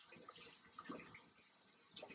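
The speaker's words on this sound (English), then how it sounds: "I'm going to turn on my hot water" Hot water runs steadily from a tap for hand washing during a nursing-care skill demonstration, a continuous close splashing rush with no voices.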